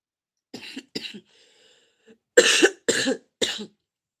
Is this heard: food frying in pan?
no